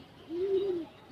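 Pigeons in a rooftop loft give one soft, drawn-out coo, and a second coo begins right after, faint and close with no voices.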